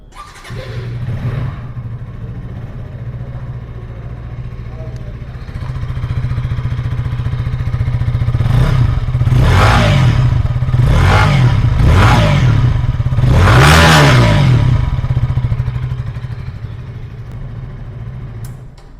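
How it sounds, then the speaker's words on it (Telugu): KTM Duke 160 motorcycle idling with a steady low thrum close by, then rising in level with several sharp throttle revs in quick succession before settling back to idle. "ఇప్పుడైతే ఈ బైక్ని స్టార్ట్ చేసి సౌండ్ బీట్ ఎలా ఉందో చూద్దాం"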